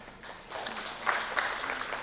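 Audience applause at an editorial workshop panel discussion, a soft patter of clapping that swells slightly midway and holds steady, moderately distant in a hall.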